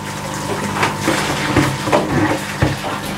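Aquarium water siphons through a hose into a water butt, producing a soft continuous trickle and gurgle with a few small knocks and splashes, fairly quiet and close.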